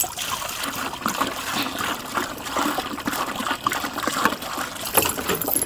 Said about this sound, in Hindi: अभी इसमें डालते हैं भाई पानी।